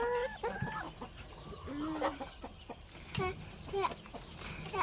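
Hens cluck repeatedly in short bursts, close by, with a person speaking intermittently over the birds while collecting eggs.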